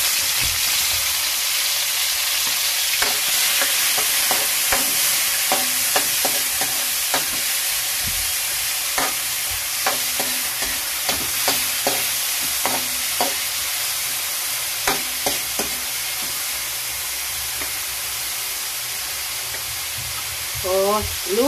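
Tomatoes frying in oil give off a continuous soft hiss with a string of scattered clicks and taps from stirring, close and steady throughout with no talk.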